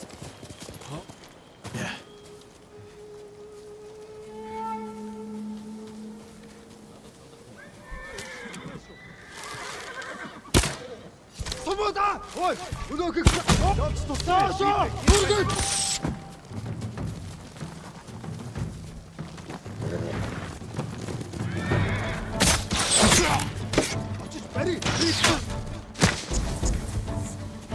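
Kage the horse gallops in Ghost of Tsushima, rapid rhythmic hoof clip-clop with neighs and thuds, close and loud over the latter half, preceded by quieter game tones, with a brief spoken word.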